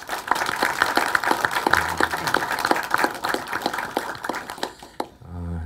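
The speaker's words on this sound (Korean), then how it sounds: "격려의 박수 크게 한번 주실까요?" An audience at a Korean district office staff meeting claps for retiring officials, a fairly close, rhythmic patter of hands that fades out near the end as the room quiets.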